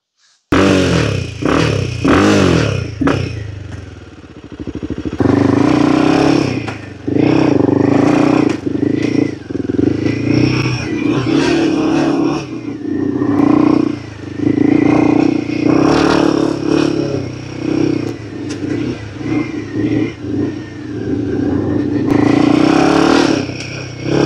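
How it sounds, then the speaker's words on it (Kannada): Royal Enfield Himalayan 450 motorcycle fitted with an aftermarket AEW exhaust and dB killer, loud close engine revving and accelerating with throttle blips, gear changes and some rattly clatter over about twenty seconds of riding. "ಫಸ್ಟು ನಿಮಗೆ ಈ ಗಾಡಿನ ಓಡಿಸಿ ತೋರಿಸ್ತೀನಿ ನೋಡಿ, ಈಗ ವಿತ್ DB ಕಿಲ್ಲರು."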